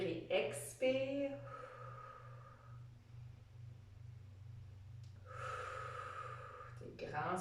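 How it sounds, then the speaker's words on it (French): Slow, deep breaths during a stretching exercise, long airy inhales and exhales, with a voice speaking between them over a low background hum. "Prends des grandes inspirations lentes et profondes."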